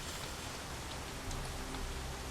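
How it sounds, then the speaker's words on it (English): Storm rain lashing a dock in Shadowrun: Shadows of Hong Kong, a steady dense hiss of heavy rainfall that stays even and loud throughout. "Cold rain lashes your face as you take a place on Talpo's dock. The storm is loud, practically deafening."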